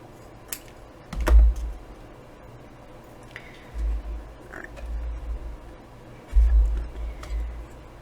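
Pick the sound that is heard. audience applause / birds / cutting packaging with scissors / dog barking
cutting packaging with scissors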